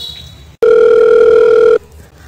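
A telephone dial tone sounds loud and steady for about a second while a call is placed, set between quieter stretches.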